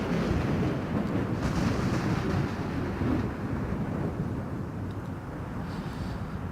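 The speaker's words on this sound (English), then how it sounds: "I am in the storm." A thunderstorm in a naval warfare video game, heard as a steady, loud low rumble of wind and rain with surf-like wash and faint thunder rolls throughout, without any talk.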